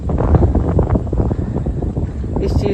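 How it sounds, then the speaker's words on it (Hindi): Cool wind gusts over crop fields and leaves, buffeting the microphone in a loud, steady roar that fills the whole clip, with rustling and a faint voice underneath. "इतनी जितनी ठंडी हवा चल रही ना उससे लग रहा कि हाँ बरस रहा है"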